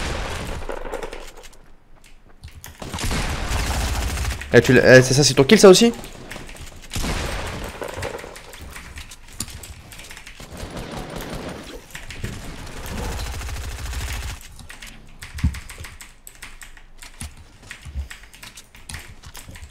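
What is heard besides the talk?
gunfire in Fortnite video game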